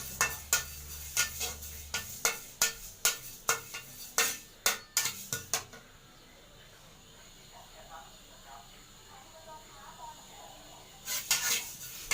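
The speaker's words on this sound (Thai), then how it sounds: "คั่วงาให้มัน" Sesame seeds being dry-roasted in a pan for a Thai bamboo-shoot salad, a rapid run of sharp scraping and tapping stirs, then a quieter stretch of faint sizzle and rustle, with a brief burst of stirring again at the end.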